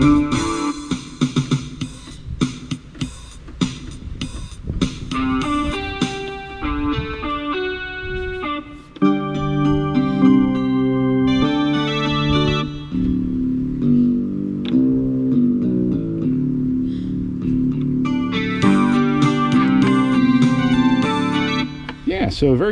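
A Roland MT-90S floppy disk MIDI player plays a song through its built-in speaker, a busy, steady run of layered synthesized instruments and melody lasting throughout, close and fairly loud, with no voices over it.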